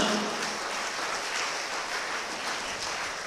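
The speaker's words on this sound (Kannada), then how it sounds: "ಒಂದು ಚಪ್ಪಾಳೆ ತಟ್ಟುತ್ತಾ ದೇವರನ್ನು ಸ್ತುತಿಸೋಣ" A congregation at a live Kannada prayer service claps hands in praise. The applause is steady, dense and continuous throughout, with no break in the clapping.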